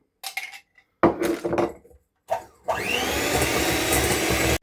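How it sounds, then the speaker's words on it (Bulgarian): An electric hand mixer whirs loudly and steadily through cake batter for a Bulgarian chocolate cake, after a few clinks of a utensil against the bowl. "И отново разбиваме с миксера."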